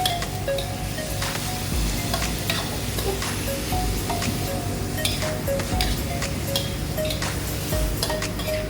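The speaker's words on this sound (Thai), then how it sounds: "ผัดให้หัวหอมใหญ่สุก" Onions stir-frying in a pan with steady sizzling and occasional stirring scrapes, continuous and close, no voices.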